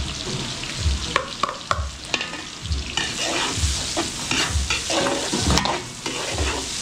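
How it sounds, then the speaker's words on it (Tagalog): Garlic and onion sizzle in a pan for a catering job, a loud, steady frying hiss broken by repeated scrapes and stirring strokes of a utensil, heard up close without talking. "Okay, papupulayin muna natin itong bawang sibuyas."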